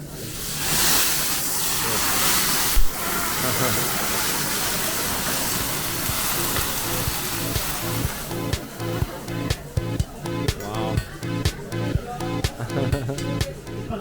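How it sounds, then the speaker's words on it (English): Food sizzles on a tableside teppanyaki grill at Nobu Burswood, a steady hiss and crackle that gives way to a run of sharp, rhythmic metallic taps as the cooking goes on, with faint voices nearby. "Seated at one of the teppanyaki sections, much of the food was cooked right there at the table."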